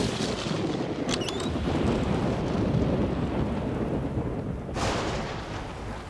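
Thunderstorm in a Spanish-dubbed children's cartoon: steady heavy rain hiss with a deep rolling thunder rumble throughout, loud and close, with a brief crackle near the start and a fresh surge of noise toward the end, no voices.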